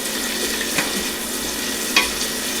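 Onions sautéing in a pan on an induction plate give off a steady, close sizzle, broken by a couple of light clicks or scrapes from stirring.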